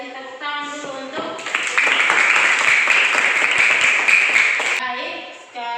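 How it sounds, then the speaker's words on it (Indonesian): A group of people applauding together in a classroom-style group discussion session, a dense, steady burst of clapping lasting a few seconds, with speech audible at the start and end. "Kasih tepuk tangan dulu untuk."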